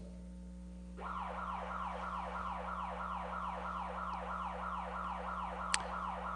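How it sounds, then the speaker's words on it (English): A loud school lockdown alarm starts abruptly and repeats a rapid rising electronic sweep over and over, steady and continuous, with a low hum underneath. "So Mr. Lawler, if you can sound the lockdown alarm, please."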